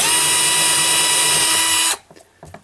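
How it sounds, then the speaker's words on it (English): A power drill bores a pilot hole with a 5/64 bit, giving a loud, close, continuous whine that stops abruptly near the end and leaves faint clicks and handling noise. "We have our 5/64 drill bit and the drill. We're going to place it right on that first spot. Drill our first hole."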